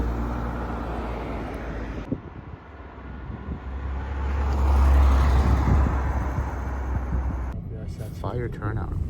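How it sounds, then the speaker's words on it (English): Several Lamborghini sports cars arrive at a busy car meet, their engines a broad rumble that swells to a loud peak midway and then eases off, heard over steady traffic and crowd noise. "You can hear some Lambos or something coming in."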